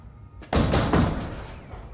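A door swings shut with a single loud thud and a short reverberant tail, set within a Thai-dubbed feature film scene inside a house.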